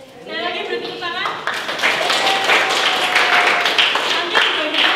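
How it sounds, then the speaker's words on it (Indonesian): A group claps hands together in a classroom after a prize for the most cohesive team, the clapping building quickly into a dense, steady round close by, with a voice speaking at the start. "Sekali lagi beri tepuk tangan."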